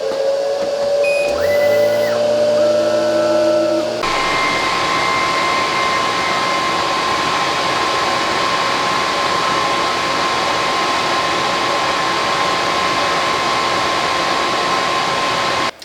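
An xTool P3 laser engraver works on a Christmas bauble: shifting tonal whirs at first, then a loud, steady fan-like hum with a thin whine that runs unbroken.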